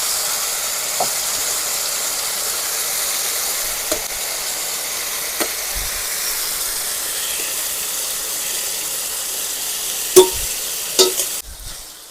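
Angamali-style pork and Chinese potato stirred in a hot frying pan, giving a steady low sizzle throughout with a few sharp clinks of the spoon against the pan, and no talking.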